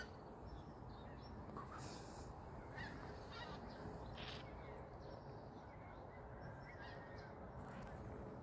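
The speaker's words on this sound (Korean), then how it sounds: "철새가 이렇게 날아가고 있습니다." At dawn in autumn, migratory birds fly past yellow ginkgo trees, giving faint, distant honking calls scattered over steady outdoor background noise.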